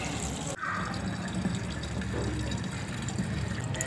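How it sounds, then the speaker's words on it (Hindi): Water poured from a hose or tap onto small potted plants, a steady close splashing wash that runs unbroken for a few seconds with a brief dip near the start and no talk. "तो अभी इनको पानी लगाते हैं।"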